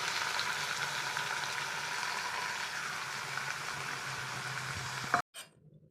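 Chopped tomatoes sizzle loudly in hot oil for a tomato and green chilli pachadi, a steady crackling fry that cuts off abruptly near the end.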